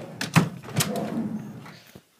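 A wooden pipe cabinet's top drawer slides open in a couple of soft wooden knocks and scrapes, close by and moderately loud.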